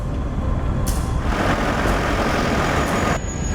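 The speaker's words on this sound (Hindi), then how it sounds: "मुकेश भैया, ऐसे में गाड़ी चलाना बहुत मुश्किल हो रहा है" Truck engine while driving, a loud, steady low rumble with a broad hiss rising and falling over it, heard alone without speech.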